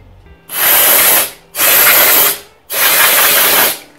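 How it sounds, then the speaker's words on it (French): Three long bursts of compressed air from a computer air-duster can, each lasting about a second with short pauses between, loud and close, used while cleaning a Honda CB500 motorcycle starter motor during a brush replacement. "j'utilise une soufflette pour ordinateur"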